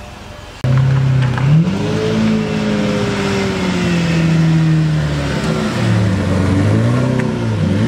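A Mercedes-AMG GT S engine revs hard and close, its pitch climbing, dipping and swelling again in continuous loud throttle blips, with no talking.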